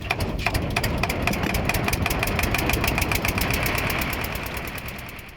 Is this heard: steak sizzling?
no